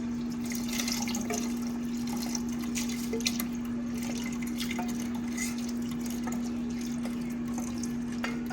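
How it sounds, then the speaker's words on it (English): Soup base pours into a pan of cooked mushroom and onion mixture, a soft continuous liquid splashing and trickling under a steady low electrical hum. "I'm going to add that to our mushroom onion mixture that we made"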